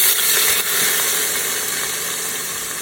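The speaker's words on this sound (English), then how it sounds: "I will deglaze with the sherry" Sherry poured into a hot Instant Pot to deglaze, giving a loud, steady hiss and sizzle up close that eases slightly toward the end, with no talking.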